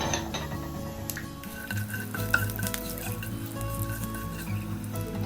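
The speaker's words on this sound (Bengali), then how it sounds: "আমার তেলটা গরম হয়ে গেছে, এবার আমি এই মশলাগুলো দিয়ে" Spices and crushed ginger dropped into hot oil, a soft continuous sizzle with stirring and occasional utensil clinks, close up over light background music.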